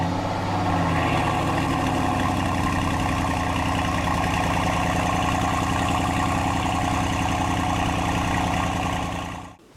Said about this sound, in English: gives you the sounds that we love whenever we hear the horsepower or the vroom of the motor